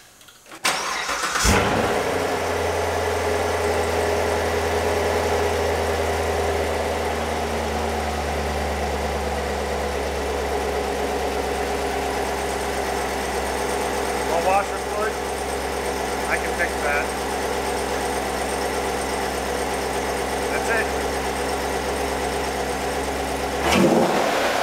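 A Chevrolet Corvette C7 with 16,000 miles, from Florida and being readied for paint, cranks and fires up, then settles into a steady, low, rumbling idle for over twenty seconds, heard close with faint clicks and rattles around it.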